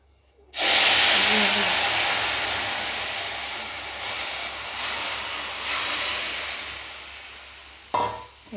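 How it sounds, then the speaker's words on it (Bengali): Vegetable curry tipped into a hot pan of fried lentil dumplings, bursting into a loud, close hiss and sizzle that slowly fades, followed by a brief clatter near the end. "তরকারিটাকে ঢেলে দেবো।"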